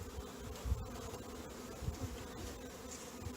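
Honeybees from a package hum and buzz softly as they settle into a hive, a faint continuous drone with a few closer passing buzzes.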